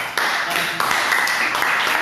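A crowd applauds steadily, a dense wash of clapping that carries on for the whole stretch with no pauses.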